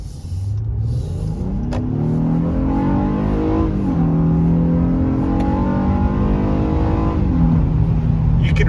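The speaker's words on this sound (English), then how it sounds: "You can really hear that VTEC kick in" A 2022 Honda Passport with its VTEC engine, accelerating from inside the cabin as the engine note climbs steadily in pitch, holds, then climbs again through the rev range, loud and continuous, with no talking over it.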